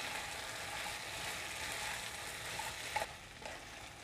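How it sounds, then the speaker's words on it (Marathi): Onion, tomato and potato slices being stirred together in a pan for a Marathi potato dish, a steady soft sizzle with a few faint scrapes near the end, no voices. "आता कांदा, टोमॅटो आणि बटाटा आपण व्यवस्थित मिक्स करून घ्यायचा."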